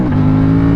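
Aprilia Tuono 457 motorcycle, a light 2025 sub-500cc naked bike, revving hard through a small wheelie with a steady, loud engine drone.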